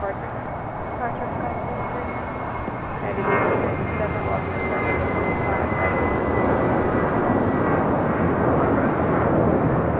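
An airliner departs LAX with a broad, steady jet roar that strengthens after a few seconds and carries on without a break, with a radio voice faintly present.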